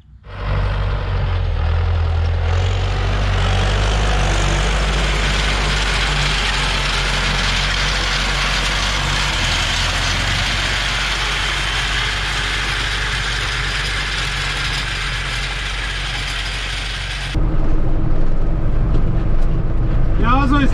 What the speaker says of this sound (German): Ich sitze wieder in meinem alten Sechser und da Gülle fahren.